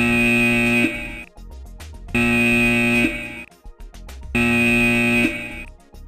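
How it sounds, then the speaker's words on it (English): A loud electronic evacuation alarm tone sounds in three long repeated bursts, each cut off by a short gap, harsh and steady. "The evacuation alarm sounds like this."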